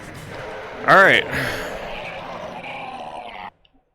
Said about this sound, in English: How's that for a death sound for you?